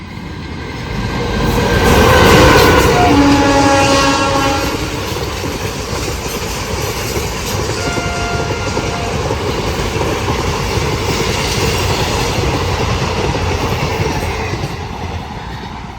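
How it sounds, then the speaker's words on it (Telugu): A train runs along the railway track right beside a village house, its loud, steady rumble and clatter of wagons rolling past for the whole stretch, swelling early and staying close. "మా పెదనాన్న వాళ్ళ ఇంటి పక్కనే ట్రైన్ అయితే వస్తుంది"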